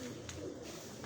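A held pigeon gives a soft, brief coo, close and quiet against a steady background hiss.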